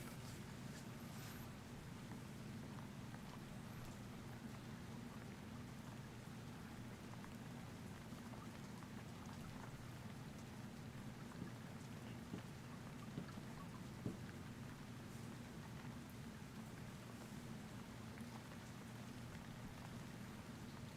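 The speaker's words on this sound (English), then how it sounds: "You can hear the rain in the background as well," Steady rain falls in the video game Once Human, a faint, even hiss with a low rumble beneath it, continuous and without speech.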